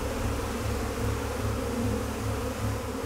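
A dense swarm of bees buzzes close by, a loud continuous drone with a slightly pulsing low hum, steady throughout with no voices.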